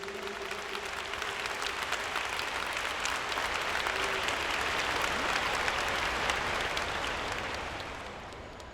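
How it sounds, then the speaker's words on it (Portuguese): Strong applause from a congregation at a Brazilian evangelism congress, honoring pastors called up front: a dense, sustained wash of clapping that swells and then tapers off near the end. "Eu queria que vocês dessem um forte aplauso para esses homens de Deus."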